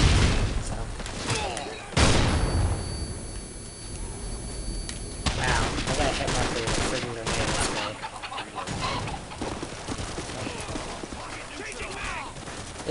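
UMP submachine gun firing in the video game Modern Warfare 2, with loud bursts of gunfire and game noise running under steady talking throughout.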